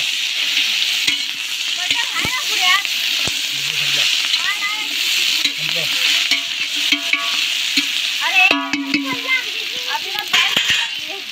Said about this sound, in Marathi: बिर्याणीची इकडे आपलं कांदा फ्राय होत चाललं.